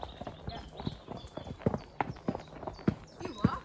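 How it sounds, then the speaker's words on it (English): Quick, rhythmic hoofbeats of an ex-racehorse in a short canter, close and fairly soft, with a few faint voices and rustling. "A very quick canter."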